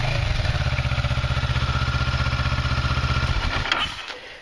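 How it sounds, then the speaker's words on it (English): A motorcycle fitted with its stock exhaust idles close by in a steady, rapid, even thumping pulse, loud and alone, before the engine is shut off and cuts away near the end. "So that's the stock exhaust before I take it off and put on the Scorpion."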